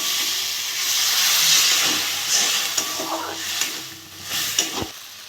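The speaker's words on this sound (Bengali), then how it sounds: "একটা টমেটো কেটে রেখেছি এটা দিয়ে দেবো মশলাটা কষে নেবো" Spice masala with tomato fries in oil for a potato and rohu fish curry, a loud continuous sizzle and steamy hiss with occasional scraping clicks from stirring, heard close and alone.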